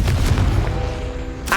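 A Confringo fire spell explodes in Hogwarts Legacy, a deep booming blast that rumbles and fades over about a second, followed by a brief new burst at the end.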